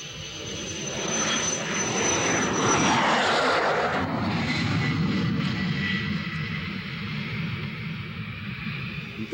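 A Boeing 707-based E-8 Joint STARS aircraft, a modified 707 cargo plane on an early test flight, roars past with a loud, sustained engine drone that swells and then slowly fades.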